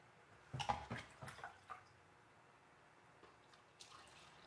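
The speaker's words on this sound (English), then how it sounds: "Fill the rest with water" Warm water running into a 32-ounce sprayer bottle mixed with upholstery cleaning product, a short burst of splashing filling followed by a few faint drips in a quiet room.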